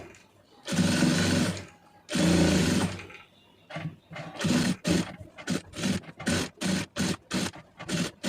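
A tailor's sewing machine stitching strips of cloth, running in two long steady bursts and then a series of short stop-start runs, close and fairly loud with no talk over it.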